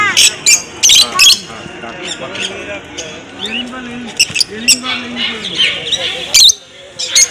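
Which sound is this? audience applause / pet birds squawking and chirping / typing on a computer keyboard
pet birds squawking and chirping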